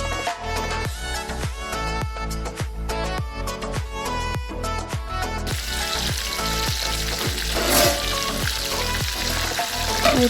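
Pork fries in its own rendered oil with fiddlehead fern (dhekia) in the pan, giving a steady close sizzle with regular popping crackles, and the hiss grows fuller and brighter partway through.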